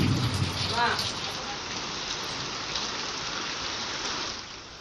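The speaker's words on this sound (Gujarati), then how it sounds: "બનાસકાંઠાના યાત્રાધામ અંબાજીમાં પણ ધોધમાર વરસાદ પડ્યો" Heavy downpour in Ambaji, Banaskantha, a dense, steady hiss of rain pounding surfaces, fairly loud and even throughout, easing slightly at the end.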